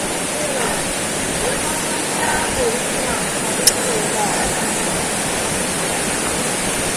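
Water rushes over rocks in a river during a crossing in General Nakar, Quezon, a steady broadband roar heard close by, with a brief sharp click partway through.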